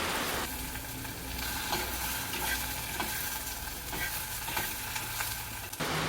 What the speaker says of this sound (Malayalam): അപ്പോൾ ചട്ടിയിൽ വെണ്ടക്ക വഴറ്റിക്കൊണ്ടിരിക്കുന്നുണ്ട്